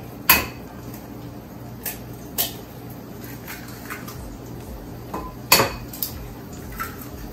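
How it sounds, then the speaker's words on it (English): Eggs cracked one after another for an omelette in a home kitchen, heard as a few sharp, close knocks and taps against hard crockery, spaced irregularly over quiet background hum. "now I'm going to break the eggs"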